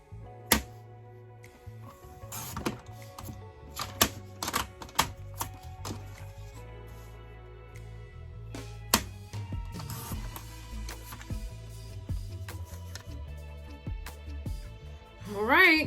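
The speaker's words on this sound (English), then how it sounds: "I'm just going to just cut mine out with my paper cutter" A paper cutter slices paper for a homemade Christmas gift tag, giving scattered sharp clicks and crisp cutting snaps, with quieter handling sounds in between.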